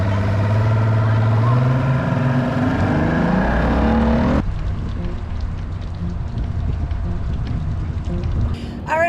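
Vehicle towing a fishing boat on the road, a steady loud rumble of engine and tire noise with rising gear tones in the first half, then a rougher, noisier road roar; a voice speaks briefly.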